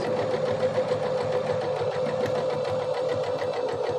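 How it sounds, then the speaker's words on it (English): A sewing machine runs steadily at slow speed, stitching along the edge of fabric and lining for a reusable face mask while passing over pins, its motor hum and rapid needle rhythm continuous and close, with no voices. "Edge of the presser foot, on the edge of the fabric, slowly over your pins."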